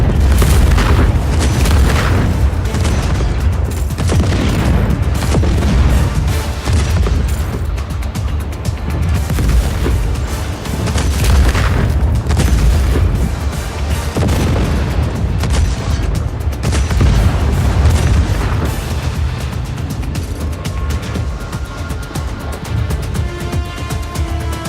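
Continuous heavy cannon booms and explosions in the video game Just Cause 4 rumble in a dense barrage, loud and deep, with repeated impacts blending into a chaotic battle din.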